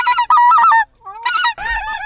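Snow geese honk loudly and close in a few overlapping bursts during a field hunt, their nasal calls separated by a brief pause.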